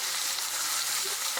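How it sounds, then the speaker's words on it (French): Broth for rabbit in mustard sauce simmering gently in a pot, an even, steady bubbling hiss that stays constant and close for the whole short stretch, without speech. "Notre bouillon est en train de frémir quelque peu, c'est parfait."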